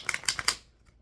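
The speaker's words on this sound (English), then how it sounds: "I guess I should shuffle these cards" Tarot cards are shuffled in a few quick, crisp riffling bursts close by, then fall quiet.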